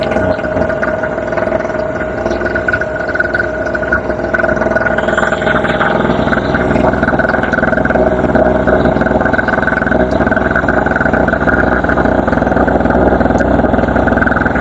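An INGCO 900W generator engine runs nearby with a constant, loud drone and a steady mechanical hum, alone and unchanging throughout.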